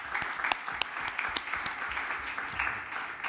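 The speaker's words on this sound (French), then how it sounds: "C'est une réponse qui mérite vraiment un applaudissement particulier." Audience applause, dense overlapping clapping at moderate loudness with a few sharper individual claps standing out, continuous throughout.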